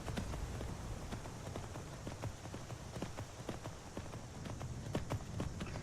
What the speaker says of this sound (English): We'll take the horse this time because why not?